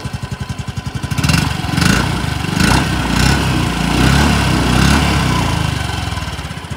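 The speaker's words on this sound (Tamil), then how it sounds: "எக்ஸாஸ்ட் நோட் எப்படி இருக்குது அப்படின்றத வந்து பார்த்துருவோம்." A 2025 Yamaha Ray ZR scooter starts quietly, then its exhaust settles into a loud, close, rapid putter with several swelling revs before easing back to idle.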